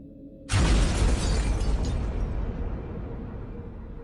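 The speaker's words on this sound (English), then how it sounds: "A thunderous explosion in the distance suddenly illuminated the world around him with a harsh orange blast" A thunderous explosion booms in the distance, a sudden loud blast with heavy low rumble that rolls on and slowly fades without dying away.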